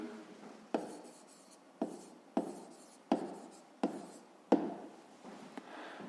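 Pen writing down an answer to a fifth-grade maths exercise, close and quiet: six or seven sharp strokes, each landing with a tap and trailing off in scratchy scribbling, at an uneven rhythm with no talk.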